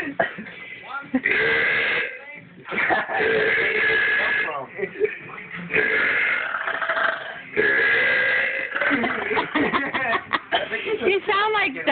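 Someone belches repeatedly in a burping contest, a string of long, gravelly, rumbling burps close up, separated by short pauses and ending in choppy, stuttering bursts.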